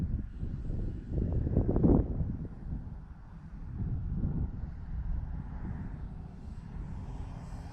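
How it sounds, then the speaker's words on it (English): Outdoor wind buffeting a microphone at a model airplane flying field, a low rumbling roar that gusts strongest in the first two seconds, then settles into a steadier, softer blow. "Man, this wind is just..."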